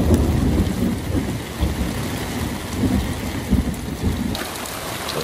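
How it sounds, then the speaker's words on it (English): Heavy rain pelting down at a campsite during a thunder and lightning storm, a dense steady roar of rain with rumbling thunder swelling underneath, heard from inside a family camper van. "It's a thunder and lightning storm."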